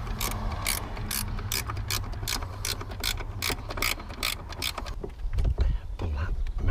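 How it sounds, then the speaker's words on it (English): A ratchet wrench working on the battery mount of a 2008 Jaguar XK, giving a loud, close, steady run of rapid clicking that slows and turns to thumps and handling noise near the end. "It would be nice to get a ratchet on there."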